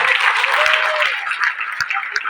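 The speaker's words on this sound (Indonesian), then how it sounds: "Jogja luar biasa, tepuk tangan dulu dong." An audience at a seminar-style gathering in Jogja applauds, a dense continuous wash of many hands clapping that holds steady and then tapers slightly, with a few sharp individual claps standing out.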